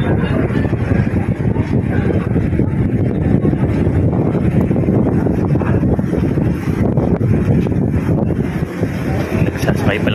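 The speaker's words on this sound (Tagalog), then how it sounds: "Umuulan. Malakas ang hangin." Strong wind and rain buffet the deck of a ferry at sea in rough weather, a loud, steady roar of gusts and rainfall that runs without a break.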